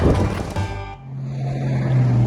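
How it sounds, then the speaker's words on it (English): Road traffic near an outdoor spot where a car is being worked on: a steady, fairly loud rumble of passing vehicles, one swelling and fading away in the first second before a low engine drone builds again. "sorry about all this background noise with the cars and whatnot"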